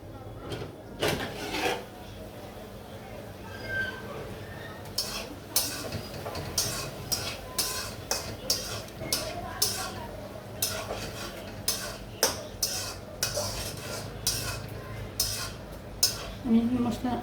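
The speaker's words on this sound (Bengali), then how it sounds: "আমি মশলা এই তরকারিটি ভালো করে কষিয়ে নিব।" Spiced ridge gourd and potato curry sautéing in a pan, with a steady run of scraping and knocking spatula strokes over a low background hum. Faint voices can be heard now and then.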